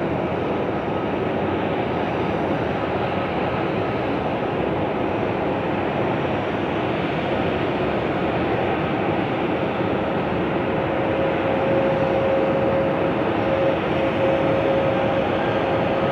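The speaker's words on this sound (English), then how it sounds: "see this plane take off and I'm going to head back in." A large airliner taking off at Haneda Airport, a loud, broad jet roar held steadily for many seconds outdoors with a faint whining tone emerging toward the end.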